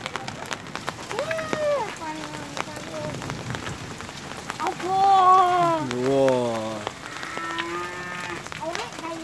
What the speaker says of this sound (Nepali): एकदम डरलाग्दो असिना आज छ